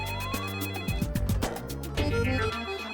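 A phone ringtone plays in an animated office comedy, a bright, melodic electronic tune that repeats in quick notes over a steady low hum, with no talking.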